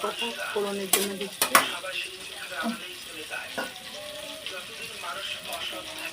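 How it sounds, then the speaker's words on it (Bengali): Pointed gourd frying in mustard oil in a pan, a steady close sizzle under clattering utensil clinks and scraping strokes early on, with bits of faint background noise. "পটলটা একটু লাল লাল করে ভাজতে হবে তার জন্য একটু সর্ষের তেল আর একটু দিয়ে দিলাম"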